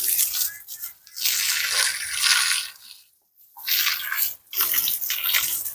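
Water running from a tap during washing, a loud hissing splash that cuts out briefly twice and resumes, close by with no voices.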